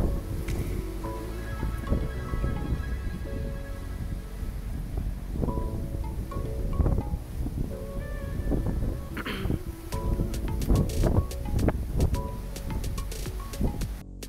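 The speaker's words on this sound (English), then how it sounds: "I hope the wind has died down enough for a moment for me to tell you" Wind gusting through a city atrium, a steady outdoor rumble with buffeting on the microphone and scattered rustles and knocks over about fourteen seconds, with no clear talking.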